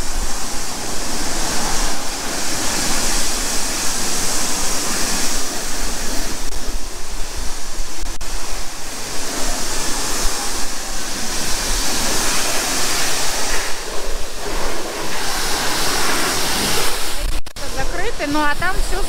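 A pressure washer at a self-service car wash blasts water in a loud, continuous hissing spray, steady for the whole stretch with only brief dips, while voices are faintly audible beneath it.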